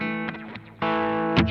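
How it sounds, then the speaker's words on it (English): Electric guitar played through a Boss TE-2 Tera Echo pedal set for slapback, giving distorted, sustained chords with echoing ambience; a softer passage gives way to a loud, harder-picked strum near the end, with no talking. "I've set up the Tera Echo for a slapback style sound"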